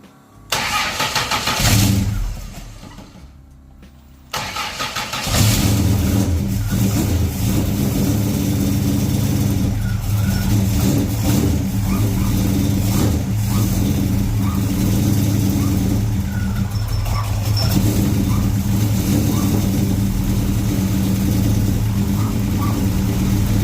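A 265 Hemi fitted with an Edelbrock 650 four-barrel carburetor on an Aussiespeed manifold cranks and fires, then settles into a loud, steady rumbling idle with slight revs for the rest of the clip, close and dominant.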